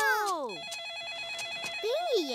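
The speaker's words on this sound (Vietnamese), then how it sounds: "Là tiếng điện thoại di động của heo ba đang reo." A cartoon mobile phone rings with a repeated electronic trill in the middle of the clip. Sweeping cartoon sound effects come before it and a rising tone follows, with no speech over the ring.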